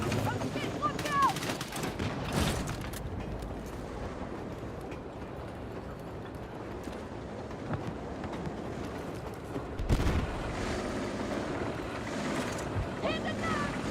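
Battlefield 6 firefight with enemy machine gun fire, bursts of gunfire and loud impacts rising and falling over a rumbling background, while voices and radio callouts talk over the shooting.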